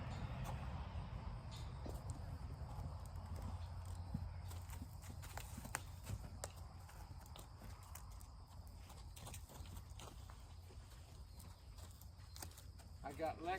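Quiet, irregular hoof clops of a yearling horse walking on hard ground, faint and somewhat distant against a steady low background hum.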